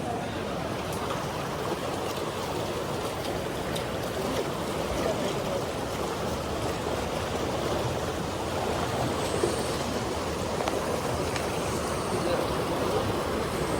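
The Seti River in Pokhara rushes in a steady, broadband roar that stays constant throughout, with light wind buffeting the microphone. No clear speech stands out.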